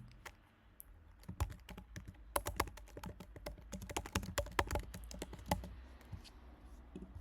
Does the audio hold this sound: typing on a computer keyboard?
yes